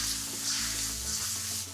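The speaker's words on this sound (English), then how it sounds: "And you should hear that immediate sizzle." Loud, steady sizzling of sauce hitting a hot wok, a continuous hiss with no talking.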